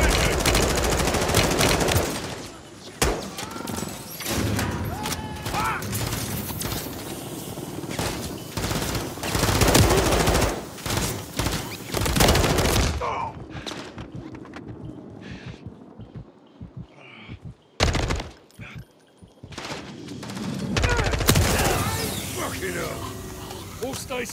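Heavy gunfire is directed at a helicopter during a military raid on a reactor in Call of Duty: Modern Warfare III, with dense bursts and explosions crowding the first half, then sparser shots and blasts among radio chatter and other voices.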